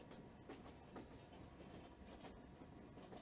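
A train rolls past in the stealth video game Thief 2X, a steady rhythmic clickety-clack of wheels over rail joints, continuous and moderately loud with no talking.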